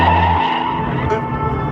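A Nissan sports car skids on a race track, with a loud, continuous tire and engine roar that holds steady for under two seconds, close and heavy throughout.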